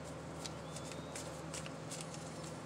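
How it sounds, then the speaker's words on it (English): Candy Land game cards being shuffled by hand, a quiet run of soft riffling flicks and taps at close range, faint overall. "Good shuffle for gameplay."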